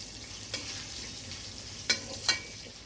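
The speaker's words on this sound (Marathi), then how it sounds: "हे शेंगदाणे छान खरपूस होईपर्यंत आपल्याला हे परतून घ्यायचंय सगळं" Peanuts frying in a hot tempering for raw mango rice give a soft, steady sizzle, with a few brief louder scrapes of stirring near the end and no talking.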